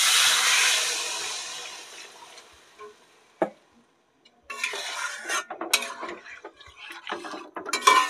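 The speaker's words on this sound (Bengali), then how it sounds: "এবার জল ঢেলে দিলাম।" Water is poured into a pan of spiced tilapia fish curry with cumin, ginger and green chilli paste, a hissing splash at first that fades, followed by a sharp clink and scattered metallic clatters of a utensil against the pan.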